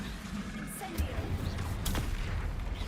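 Incendio fire spell cast in Hogwarts Legacy, a burst of magical fire with a sharp whooshing crack partway through, set against steady game ambience and low rumbling noise.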